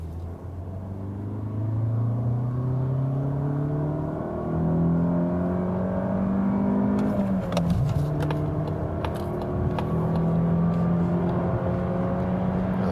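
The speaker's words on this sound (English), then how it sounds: "Now the CX30 acceleration second gear from 40 kilometers." A Mazda CX-30 pulls hard in second gear from 40 km/h, its engine note climbing steadily in a continuous rising drone heard from inside the cabin, with some clicks and knocks partway through.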